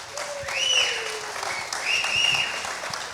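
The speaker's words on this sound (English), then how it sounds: "Round of applause for our panelists" An audience applauds panelists at a nursery industry event, a soft wash of clapping with high whistles or whoops rising above it in two swells.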